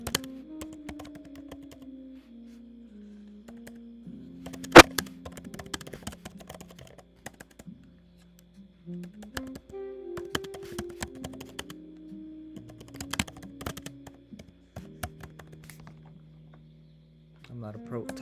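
Rapid clicky typing on a computer keyboard, scattered bursts of keystrokes running under a man's steady close speech.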